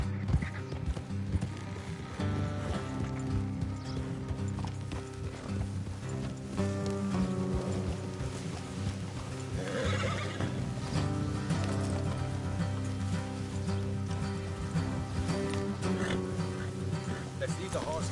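Horses in the video game Red Dead Redemption 2 clip-clop at a steady trot with occasional whinnies, close and continuous, while game music plays and characters speak over the hoofbeats.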